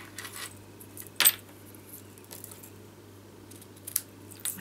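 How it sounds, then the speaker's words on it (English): Ribbon scissors snip through a length of shimmer ribbon during card making, giving one sharp, close cut followed by a few faint clicks and small handling sounds in a quiet room. "and my ribbon scissors"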